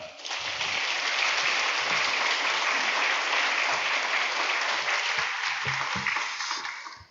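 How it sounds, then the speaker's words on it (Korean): Church congregation at a Sunday noon worship service breaks into loud, sustained applause welcoming an elder pastor to the pulpit, a dense wash of many hands clapping steadily for about seven seconds before tapering off. "힘찬 박수로 모시겠습니다"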